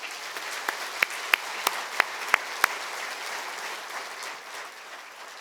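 An audience at a lecture event claps in a soft, steady patter, with a few sharper individual claps standing out near the front before the applause tapers off.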